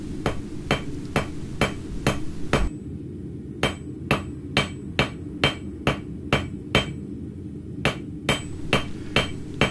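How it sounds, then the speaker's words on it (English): Hand hammer striking cooling metal on an anvil while smoothing a taper for a scroll, a steady run of about twenty sharp ringing blows at a regular rhythm, close and clear with no talk. "as it starts to cool down, you can turn the hammer over, and if you're at that stage of where you've got it, you can start smoothing out the finish"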